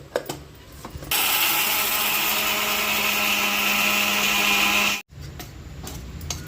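A mixer grinder blending, starting after a moment of clatter and running loud and steady for about four seconds before cutting off abruptly, followed by light handling clicks.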